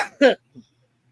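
A single sharp cough, close and brief, followed by a fainter throaty sound, then quiet.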